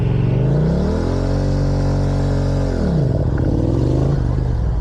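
A Yamaha R7 motorcycle revs up for a practice race start, the engine climbing to a held high pitch, then dropping and pulling away with a rougher, lower note, loud and close.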